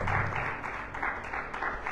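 Church congregation applauding at a Sunday service, brisk clapping of many hands in a steady patter, close and fairly loud, with a voice briefly underneath.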